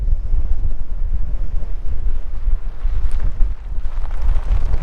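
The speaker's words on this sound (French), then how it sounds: "La force du vent est assez impressionnante" Strong wind on Anticosti Island buffets the microphone in a loud, continuous low roar with gusty surges and no talk.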